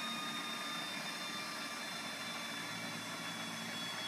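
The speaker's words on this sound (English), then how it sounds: "And starter motor is turning." A Behotec 180 small jet engine's starter motor turns, giving a steady high whine with a broad rushing hiss and no break in it.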